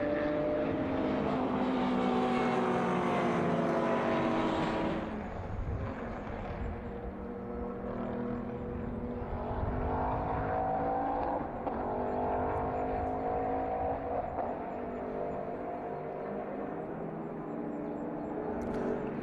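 A Porsche race car at the Red Bull Ring historic race, its engine note droning loudly at close range before easing and rising again as it passes along the track.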